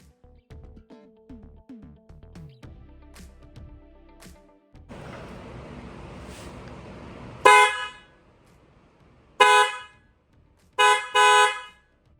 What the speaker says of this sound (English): let's test the horn and hear what it sounds like with the bumper off